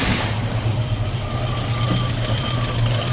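A Datsun roadster with fuel injection idles with a low, steady engine rumble, even and unbroken, heard close.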